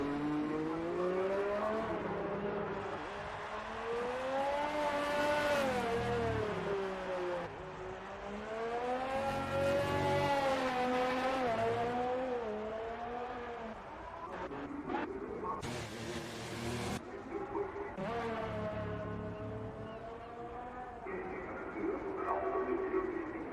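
An F1 race car engine in F1 2019 at the Singapore Grand Prix, howling close and loud through a lap, its pitch climbing and dropping with each gear change and corner in a continuous sustained whine.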